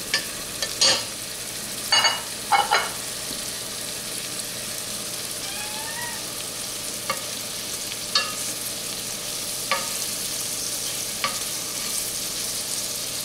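Andouille sausage sizzles in a pot with the trinity vegetables for a shrimp jambalaya, a steady close frying hiss broken by several sharp scraping stirs near the start and softer stirring later.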